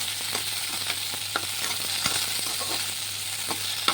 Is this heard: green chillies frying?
yes